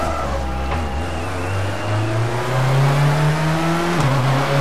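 A rally car in the video game WRC4 brakes late and skids, its engine droning and rising steadily in pitch under continuous tyre scrub, loud and close, with a sharp drop near the end.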